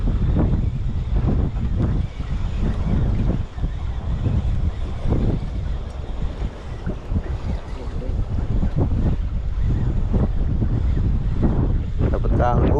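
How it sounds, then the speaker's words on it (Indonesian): Strong wind roars across the microphone at sea from a boat during squid fishing, a loud, constant buffeting rush with voices talking over it. "Waduh, anginnya kencang banget."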